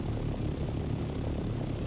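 Aircraft engines drone steadily in the Dune: Awakening video game, a helicopter-like rotor and engine hum that stays loud and constant throughout, with no talk over it.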